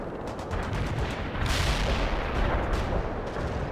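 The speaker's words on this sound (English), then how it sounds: "Launch the missile. Now!" Missile launch and artillery fire in World in Conflict: a continuous, dense barrage of booms and crackling gunfire with a sharp rushing burst at the midpoint, moderately loud and unbroken.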